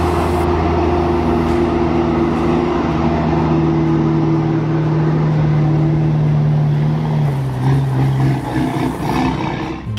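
Overloaded custom Peterbilt logging truck with a heavy timber load labouring over a rough, bad surface, a loud, steady low engine drone with sustained tonal hum that shifts pitch near the end, no talk.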